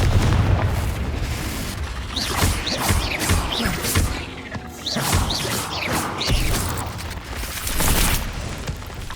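Deep, booming blasts from the Confringo fire spell in Hogwarts Legacy on PS5, several loud explosions rolling into one another over a dense rumbling wash of combat noise.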